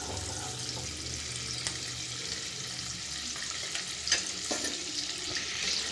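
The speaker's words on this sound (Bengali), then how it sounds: "রসুনটাকে হালকা ফ্রাই করবেন" Chopped garlic lightly frying in a pan over low to medium heat, a soft, steady sizzle with occasional stirring knocks and scrapes, close by and without speech.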